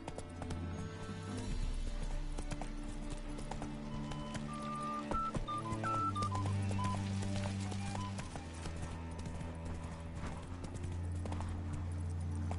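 Roach the horse gallops in The Witcher 3, steady rhythmic hoofbeats drumming close and continuous beneath a layer of tonal game music.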